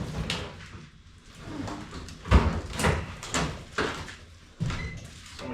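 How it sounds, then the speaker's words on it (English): A door is shut inside a workshop where a 1951 Ford Custom is being chopped, with a sharp thump in the middle among several knocks and rattles, all close by. "Somebody shut my door."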